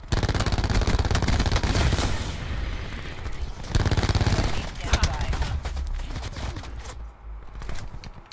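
Rapid gunfire from Black Ops 4, loud bursts of automatic shots with booming impacts, dense and continuous through most of the stretch with short pauses.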